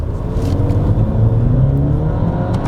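A Maserati Ghibli hybrid with a 2.0-litre turbo petrol engine sends a loud, full exhaust note from close range, a steady rumbling drone that continues without any voices.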